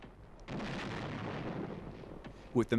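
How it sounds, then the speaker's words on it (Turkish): Archival Korean War artillery fire shelling enemy positions: a sustained rumbling, crackling barrage of distant booms, muffled and noisy like old film sound, ending with a couple of sharper bursts. "Topçu ateşi düşman mevzilerini bombalıyor."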